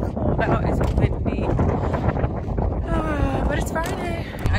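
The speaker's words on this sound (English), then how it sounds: "It's cold out. It's windy." Wind gusts buffet the microphone outdoors on a rainy, cold evening, a loud continuous roar that fills the whole stretch, with some tonal whistling toward the end.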